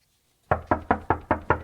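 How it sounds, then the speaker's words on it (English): Six firm, evenly spaced knocks on a wooden door ring out close and loud after a brief silence, part of a Halloween radio drama. "Someone's at the door."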